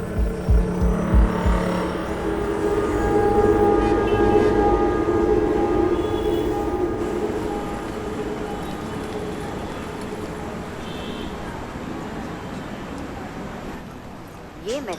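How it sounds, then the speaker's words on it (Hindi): Kochi metro train in motion with steady rumbling carriage noise and a tonal whine, a brief horn-like tone early, and voices talking over it throughout. "ये मेट्रो आलवा स्टेशन जाएगी।"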